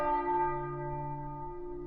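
Church bells ring out at the Fatima basilica in Portugal, a sustained resonant peal with long overlapping tones that slowly fade, heard alone without voices.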